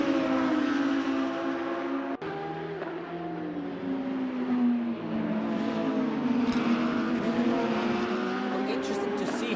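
Lamborghini race cars roar around the Kyalami circuit, their engines holding a steady, sustained drone with pitch shifting as they pass, under a commentator's voice.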